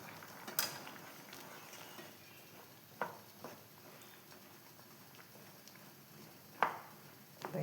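A spoon stirring Kerala-style chickpea curry in a pot gives faint, sparse scrapes and a few sharp clinks against the pot, set against a quiet background with no talking.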